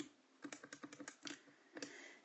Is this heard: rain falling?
no